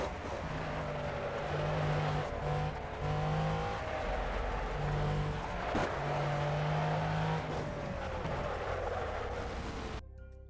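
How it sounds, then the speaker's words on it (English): Racing video game car with its engine revving hard and tires squealing, sustained and loud for about ten seconds with pitch rising and falling through gear changes, then cutting off abruptly at the end. "Car is screaming, actually screaming at me now."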